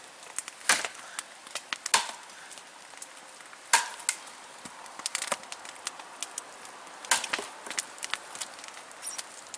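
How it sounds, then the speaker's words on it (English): A knife is batoned through wood outdoors in wet snow, giving sharp knocks and splitting cracks, several spaced strikes over a quiet rustling background, moderately close, with no talking. "now he's using it to baton each half into a quarter"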